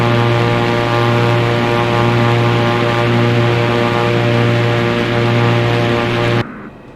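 A small propeller aircraft in Microsoft Flight Simulator 2024 drones with a loud, steady humming engine note as it takes off from Montauk Airport, then cuts out abruptly near the end.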